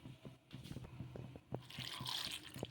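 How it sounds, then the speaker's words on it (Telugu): Water poured in small splashes into flaxseed paratha flour dough, soft irregular drips and trickles with light wet mixing sounds, quiet and close, no talking. "ఇప్పుడు నీళ్ళు కొన్ని కొన్ని వేసుకుంటూ మనం పిండిని అయితే తడిపేసుకోవాలి"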